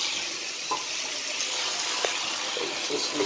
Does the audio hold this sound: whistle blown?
no